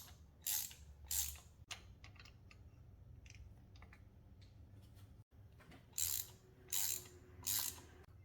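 Ratchet with a 5/8 inch spark plug socket, extension and 3/8 inch drive loosening spark plugs on a 2016 Audi A7 Quattro, quick bursts of close, sharp clicking separated by quieter handling clatter and pauses.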